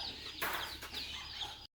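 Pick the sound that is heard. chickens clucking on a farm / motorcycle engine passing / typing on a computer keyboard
chickens clucking on a farm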